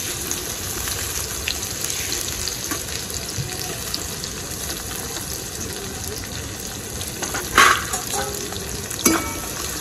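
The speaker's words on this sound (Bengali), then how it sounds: "কুচিয়ে রাখা পেঁয়াজটা তেলের মধ্যে দিয়ে দিব।" Chopped onion frying in oil with bay leaves, dried red chillies and cumin for a pangas fish curry: a continuous close sizzle with occasional louder stirring clatters, no voices.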